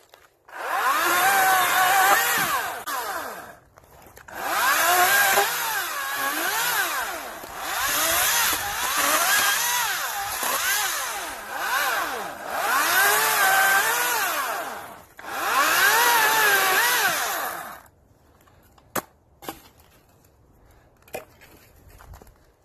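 A Greenworks chainsaw cuts through a fallen tree near a flooded cabin. Five long, loud, close bursts of whining saw noise rise and fall in pitch as the blade bites, followed by near-silence broken by a few sharp clicks.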